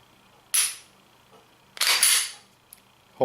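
A Glock 23 pistol's slide racks back with sharp metallic bursts, two loud close clacks a second or so apart, with small trigger clicks around them and no talking.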